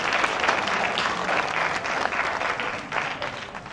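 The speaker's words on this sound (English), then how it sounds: "Can I have a round of applause for this all female team?" An audience at a conference applauds an all-female team, a full steady burst of clapping at moderate distance with no pauses.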